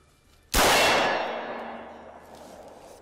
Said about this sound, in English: You're hitting that gong every time though, so it sounds like the sights are on.